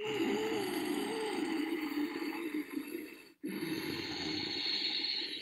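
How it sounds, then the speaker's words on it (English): A person breathes slowly through a tightened throat, making a soft, hissing, ocean-like rush that runs continuously. It stops briefly for a gap and then resumes, close and fairly quiet. "You're making a noise like the sound of the wave, the distant ocean breaking way through your throat."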